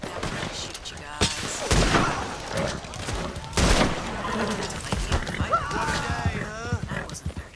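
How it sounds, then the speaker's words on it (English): Gunfire in Red Dead Online cracks out in a few loud, sharp bursts spaced through the stretch, mixed with other game noise, while someone talks over and between the shots. "Alright, now we're gonna shoot you guys."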